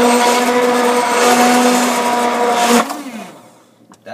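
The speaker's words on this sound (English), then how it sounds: "I don't get to play with the immersion blender." An immersion blender whirs steadily through cauliflower soup, a loud sustained motor drone with a strong steady pitch, then cuts off abruptly and winds down, leaving faint clatter behind.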